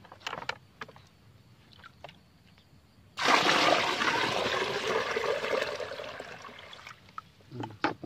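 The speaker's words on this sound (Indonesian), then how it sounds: "Baru kita tuang ke dalam tempat yang lebih besar seperti ini, jadiin satu." Dissolved chemical solution containing humic acid being poured into a larger container: a sudden steady gush of liquid splashing for about four seconds, then tapering off, with faint handling clicks before and after.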